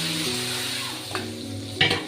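Eggplant pieces fry in hot oil, a close, continuous sizzle punctuated by a couple of sharp spatula scrapes and clinks against the pan.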